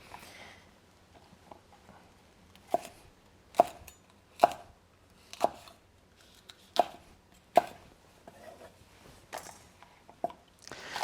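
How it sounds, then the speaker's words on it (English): A knife chops green peppers on a cutting board in sharp, irregular thuds spaced roughly a second apart, close and clear against a quiet kitchen background. "let's get these chopped up"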